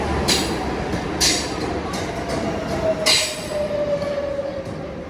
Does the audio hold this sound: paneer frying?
no